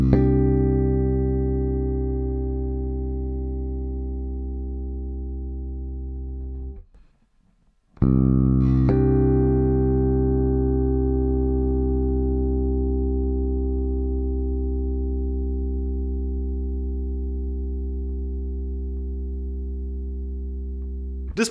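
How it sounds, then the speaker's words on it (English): Bass guitar through an Empress Effects Bass Compressor pedal, two long sustained notes that ring out clean and slowly fade, separated by a short silence, close and loud, with no talking. "Now let's hear some sustain added by the Empress Bass Compressor."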